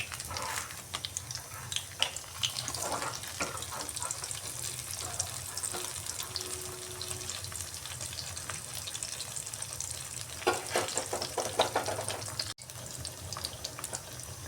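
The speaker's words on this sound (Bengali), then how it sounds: "তেল গরম হয়ে গেছে এইভাবে আমি একটা একটা নিয়ে ব্যাটারি দিয়ে তেলে ভেজে নিচ্ছি" Battered stuffed ash gourd fritters fry in hot oil, giving a dense, continuous crackling sizzle throughout, close and fairly even, with a brief scrape and dip near the end.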